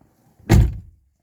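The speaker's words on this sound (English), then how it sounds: "Yep, door shut," A Rover 45 Impression S3 CVT car door shut once, a single close, solid thunk that lands abruptly and fades quickly into quiet.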